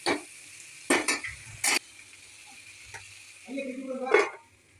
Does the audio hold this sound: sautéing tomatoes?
yes